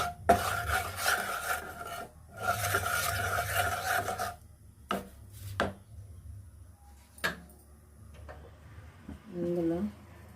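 A spoon scrapes and stirs an egg curry mixture in a pan in close rasping bursts, two long and several short, separated by near silence, with a brief voice near the end.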